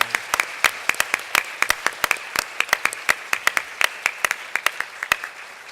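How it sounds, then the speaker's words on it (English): A conference audience claps steadily for several seconds for morning speakers, sharp individual claps overlapping into a lively round of applause that slowly thins toward the end. "Let's give a big round of our applause to our incredible speakers this morning."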